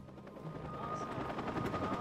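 A helicopter in the video game Watch Dogs makes a faint, steady rotor thrum with scattered sharp game noises, under a voice talking over it.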